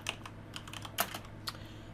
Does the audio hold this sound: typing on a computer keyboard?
yes